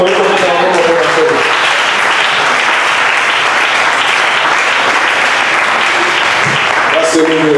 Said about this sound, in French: Est-ce qu'on peut applaudir encore le Seigneur?